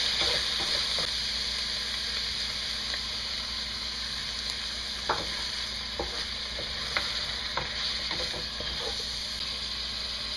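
Pork and tofu with parsley are stirred in a sizzling pan, a steady frying hiss with scattered scrapes and clinks from the utensil, close and without speech.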